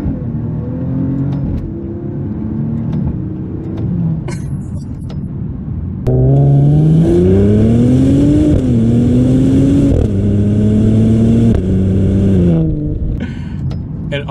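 A 2024 Maserati Ghibli Modena Ultima revs loudly and close, its engine note climbing and falling through several strong pulls after a quieter idle, with a low rumble between the revs.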